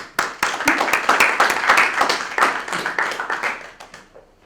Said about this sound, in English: let's give a big round of applause for our roasters for today